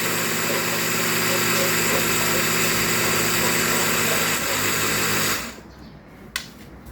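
A kitchen blender whirs steadily at high speed, mixing ingredients for a Thai Isan dish in a loud continuous motor drone that cuts off abruptly near the end, leaving quiet room noise and a small clatter.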